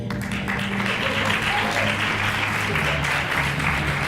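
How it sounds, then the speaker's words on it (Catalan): Applause for jury member Iris at a presentation, a steady wash of clapping from an audience with a low voice murmuring underneath, brief and continuous. "Un fort aplaudiment per a Iris."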